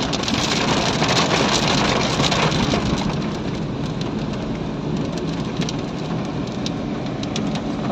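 Rain falls steadily during a drive, a dense broadband patter with scattered drop hits over a low engine rumble, loud and continuous with no talk.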